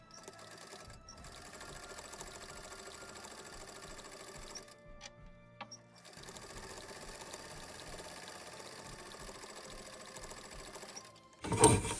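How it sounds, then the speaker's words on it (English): A sewing machine stitches along folded fabric in a steady, fast, mechanical whir. It stops briefly near the middle, runs on again and ends with a louder knock, close up with no talking. "When you sew the 2 fold like this, make sure you sew in the fold outside here first and then go in."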